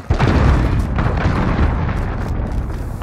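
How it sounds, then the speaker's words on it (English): A cruise missile explodes in Call of Duty Modern Warfare, a loud, sustained rumbling blast that fills the whole stretch from the first instant and rolls on with heavy low-end roar. "Allied cruise missile away."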